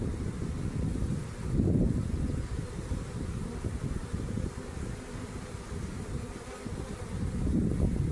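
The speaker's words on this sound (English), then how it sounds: "They must be getting a lot of bees underneath that bottom board now" Honey bees around a swarm trap hum in a dense, continuous drone, close and fairly loud, with gusts of wind noise rising and falling over it.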